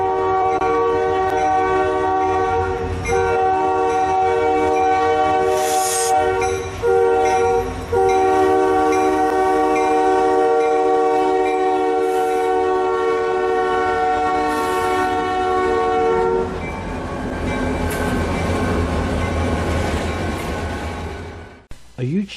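A Buffalo and Pittsburgh Railroad train rumbles past in DuBois, Pennsylvania, with a long, loud horn blast sounding over the rolling wheels, then the horn stops and the rumble continues.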